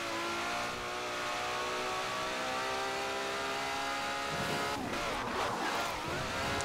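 A car engine in a racing video game holds a steady, buzzing drone with stacked tones, then revs and shifts into rougher, rising bursts near the end, loud and continuous throughout.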